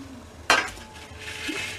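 A steel plate is picked up and set down in a kitchen while making chocolate mawa burfi, giving one sharp metallic clank followed by a softer ringing scrape and a faint clink against quiet room tone.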